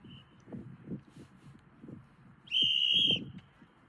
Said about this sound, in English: That's a pretty good kickoff whistle, right?